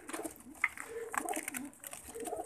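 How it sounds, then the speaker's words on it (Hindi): Soft cooing of a young pigeon held up close for inspection, a few faint murmured coos rising briefly over a quiet background. "इसको बोलते हैं कबूतर का बच्चा"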